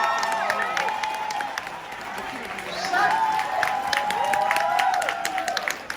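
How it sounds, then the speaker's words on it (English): A crowd claps and cheers in a steady wash of applause, with voices calling out over it. "please give Yamish a round of applause"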